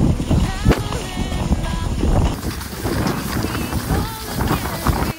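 A galloping horse pulls a skijoring skier across snow, with rapid irregular hoof thuds and heavy wind noise buffeting the microphone throughout.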